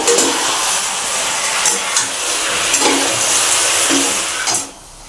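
Okra curry with spices sizzles and fries steadily in a pan, a loud close hiss with faint stirring scrapes. It cuts off sharply near the end.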